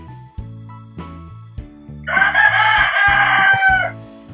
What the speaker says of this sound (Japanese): うちで飼ってる鶏が泣きました。